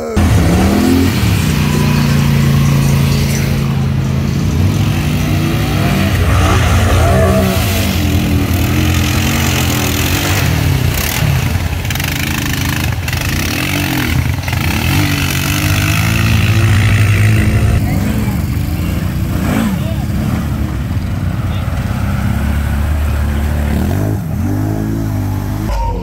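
A four-wheeler ATV engine revs loud and close under heavy throttle, rising and falling repeatedly while it runs continuously, with brief voices over it.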